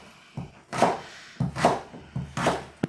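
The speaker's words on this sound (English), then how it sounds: "you want to dice it because it's denser than the potatoes" Knife dicing a vegetable denser than potatoes on a cutting board, likely for Scottish rumbledethumps, heard as three separate bursts of quick, close chopping thuds with short pauses between them.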